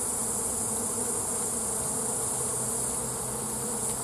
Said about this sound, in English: Most of the bees are field bees, they've all flown back by a little bit.